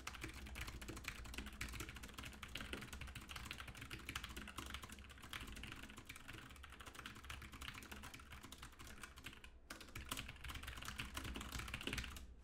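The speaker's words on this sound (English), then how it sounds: "That's just mashing keys. That is not how you type." Fast, dense typing on a computer keyboard runs continuously as rapid clattering keystrokes throughout, with only a brief pause near the end, heard close and alone during typing practice.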